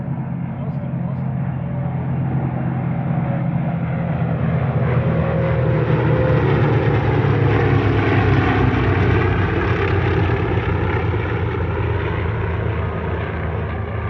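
A propeller aircraft makes a flypast at the Hunter Valley Airshow, its engine drone steady and loud, swelling and shifting pitch as it passes, with a voice speaking over it.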